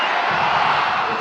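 A baseball stadium crowd of about 5,000 at a Savannah Bananas banana ball game yells together in one loud, dense roar, a short sustained burst of massed voices.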